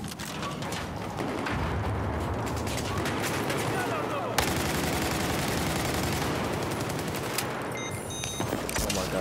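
Bulldog rifle gunfire in a first-person shooter video game, with a scope fitted: dense, rapid bursts of shots that crackle almost continuously, loud and close, with heavy layered firing from several directions.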